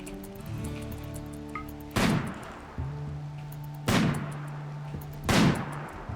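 Colonist shooting practice in the video game RimWorld: three sharp, loud gunshots spaced about two seconds apart, each with a short tail, over a low steady game hum.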